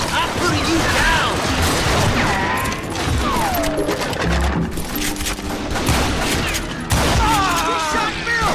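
Rapid gunfire crackles and booms in the Western shooter Call of Juarez: Gunslinger, loud bursts of shots and impacts layered over game music and shouting voices.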